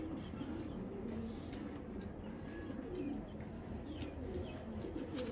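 A blue-eyed female pigeon coos in soft, repeated low calls close by, with faint chirps and background noise around it.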